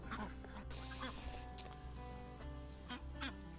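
Ducks quack and honk on a farm pasture alongside other fowl, repeated calls over a steady background drone, with faint voices now and then.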